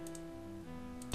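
A short clack from shaking a locked door in the Death Gate video game, a light clicking rattle heard alone, close and fairly quiet.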